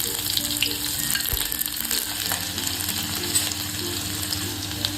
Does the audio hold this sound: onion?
yes